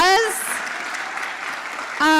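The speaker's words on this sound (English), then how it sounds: "Can we give Al a round of applause?" A live audience at a talk event breaks into brief applause, a short burst of clapping framed by a voice speaking just before and after.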